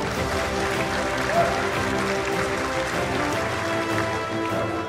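An audience at an evening event honouring a legendary guest claps steadily in a warm welcome, a loud continuous wash of applause with crowd noise mixed in.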